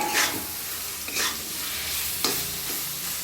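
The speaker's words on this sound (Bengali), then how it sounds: "এঁচোড়টা একটু ভালো করে ভেজে নিয়ে" Loud, close sizzling of unripe jackfruit frying in a pan, with several scraping strokes of a spoon stirring through the steady hiss.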